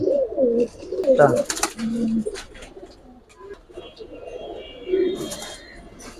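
High-flying Giribaz pigeons coo in low, throaty, rolling bursts close by, several calls spread across a few seconds, mixed with someone talking over them.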